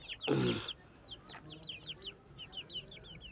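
Broiler chickens about 38 days old on a farm, clucking and squawking as one is grabbed for weighing: a loud squawk at the start, then a string of soft rapid clucks and chirps from nearby birds, no voices.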